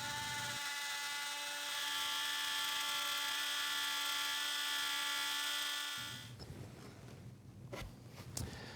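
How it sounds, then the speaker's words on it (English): A router with a bearing-guided pattern bit trimming the opening of a template, a loud steady high-pitched whine that cuts off abruptly, followed by quiet handling clatter. "Turn on the router and bring the bit so that the bearing contacts the edge of the template"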